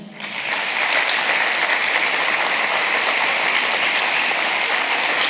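An audience at a sports awards ceremony in Roquetes breaks into loud, sustained applause that swells quickly and holds steady, many hands clapping together.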